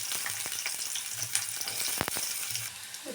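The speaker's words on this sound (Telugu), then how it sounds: "ఇప్పుడు ఆనియన్ వేసుకుందాం ఒక చిన్నది." A small chopped onion frying in oil with cumin and green chillies in a pan, a continuous crackling sizzle broken by sharp clinks and scrapes of stirring, steady and close.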